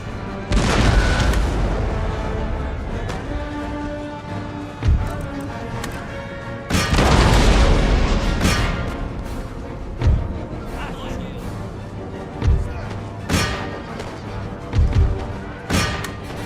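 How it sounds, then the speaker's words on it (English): Artillery fire in the strategy video game Total War: Empire, with Russian forces, booming repeatedly over a dense battle soundscape, loud thuds recurring at irregular intervals. "And there's his artillery."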